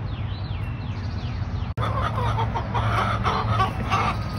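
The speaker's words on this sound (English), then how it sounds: "Chickens are still talking." Three chickens shut in a farm coop on a foggy morning cluck and murmur softly at a distance, with a sharp click partway through and faint squeaky noises early on.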